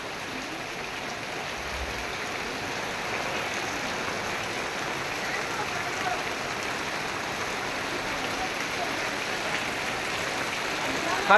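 Heavy rain pours steadily on Kherana village, a loud, even hiss of downpour that stays constant throughout without pause.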